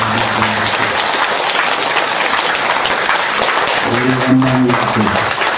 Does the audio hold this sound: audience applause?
yes